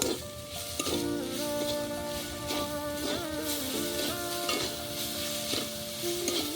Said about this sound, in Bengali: নারকেলের চিনিকে ভালো করে লাল লাল করে ভেজে নেব